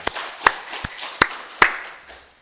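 Five sharp, separate claps ring out at an even pace during a Korean Sunday worship service at a Full Gospel church, crisp and fairly close, with no voices over them.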